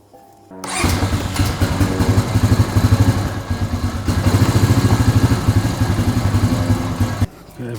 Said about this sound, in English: we'll start the same, let it run for a few minutes and check for leaks